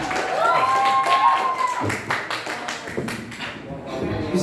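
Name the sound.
audience applause for a speech contestant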